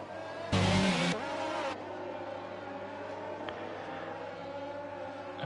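Red Bull race car in a racing video game, a loud burst of engine and rushing noise that spikes briefly, then settles into a steady droning hum, with a commentator talking over it.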